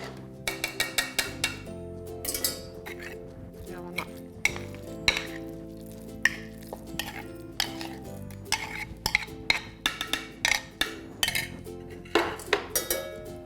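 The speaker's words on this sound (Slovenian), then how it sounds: "Naša polenta je dovolj ohlajena, da lahko umešamo še skuto." A spoon stirring curd cheese into cooled polenta in a pot, producing repeated sticky scrapes and sharp clinks against the pot in an irregular rhythm, close and clear with no talking.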